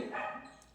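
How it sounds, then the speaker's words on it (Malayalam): A neighbour's dog lets out a single short bark, fairly close, fading away quickly. "അപ്പുറത്തെ വീട്ടിലെ പട്ടിയാണ് കുരയ്ക്കുന്നത്."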